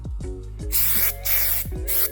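Texture spray paint hisses from an aerosol can in three or four short bursts, close and loud, with brief gaps and clicks between passes.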